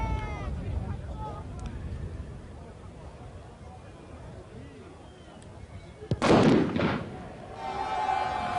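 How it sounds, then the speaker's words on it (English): A single firework bursts with a sharp crack during a rugby league match in Carcassonne, cutting through steady crowd murmur from a stadium setting, with a commentator talking before it. "Firework went off simultaneously"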